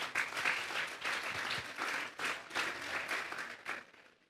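A church youth service congregation applauds in a strong, sustained burst of clapping that swells and dips in uneven waves before fading out at the end, heard at moderate distance.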